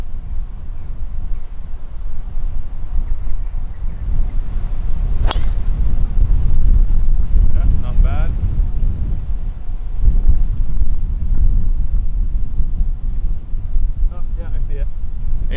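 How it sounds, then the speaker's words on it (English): Strong gusting wind on a golf course roars across the microphone in loud, uneven surges, with a brief sharp clang and people talking intermittently underneath. "A lot of wind, man."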